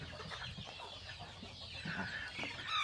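Soft, low clucking from a mother hen, fairly quiet and close, with some faint chirps of chicks and background rustle.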